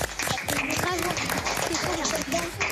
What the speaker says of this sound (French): On va vous applaudir bien fort, les oranges.